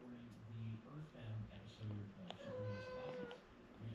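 A pet cat meows repeatedly indoors, several short rising cries in a row, fairly faint and close, with a soft voice speaking around them.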